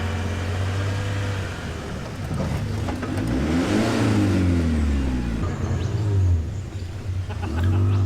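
A fourth-generation Mitsubishi Pajero works along rough off-road Creek Rd in the Watagans, its engine rumbling steadily, then rising as it revs and climbs before easing off again, fairly close.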